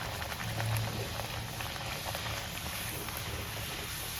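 Spinach puris deep-fry in hot oil with a dense, steady bubbling hiss that holds at an even level throughout.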